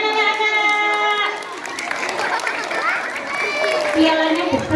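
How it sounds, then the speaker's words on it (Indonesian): Children at a school ceremony clap in a burst of applause that swells and fades over a few seconds, mixed with a voice and some crowd chatter. "Tepuk tangan anak-anak."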